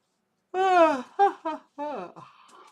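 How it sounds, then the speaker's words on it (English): A few close, whiny vocal yelps and moans from a dog in quick succession, rising and falling in pitch, with silence before and between. "He's barking because Buka's laying in my bed"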